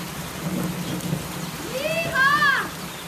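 Heavy rain drums steadily on a tin roof, with a low rumble of thunder underneath, while a couple of voices briefly exclaim near the end.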